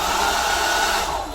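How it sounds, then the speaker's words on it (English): A hairdryer in a balcony cabin aboard the Cunard Queen Mary 2 blows with a loud, steady whirring roar from close by, running continuously with no talk over it. "So there we have a hairdryer."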